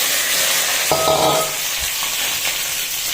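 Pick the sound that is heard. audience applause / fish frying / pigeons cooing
fish frying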